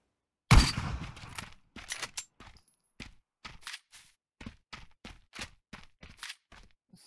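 Gunfire in the Knives Out video game, a loud opening burst followed by a string of sharp, separate shots at irregular intervals, some close and some farther off, with no talk over them.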